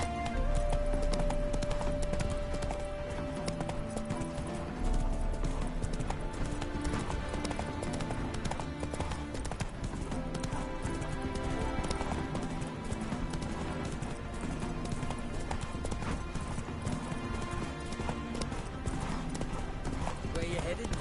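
Roach the horse galloping in The Witcher 3, steady hoofbeats running under dense game music and voices.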